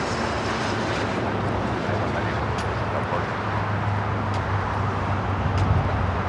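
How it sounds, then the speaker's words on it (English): A United Airlines Boeing 787-9 Dreamliner takes off at an airport, a steady broadband jet roar with a low hum, heard from a distance and holding at an even loudness throughout. "This is United Airlines 198 taking off to Shanghai on the 787-9 Dreamliner."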